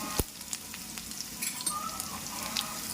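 Dried red chillies and cumin fry in hot oil with a soft, steady sizzle. A few light clicks of stirring cut through, and no one speaks.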